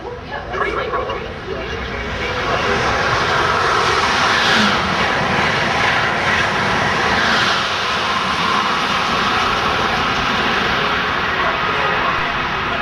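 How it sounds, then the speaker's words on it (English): A loud, steady rumbling roar of an Amtrak Acela Express train passing through a station builds and holds, broad and close, with faint voices at the start. "This was the second and last Acela Express train to pass through here"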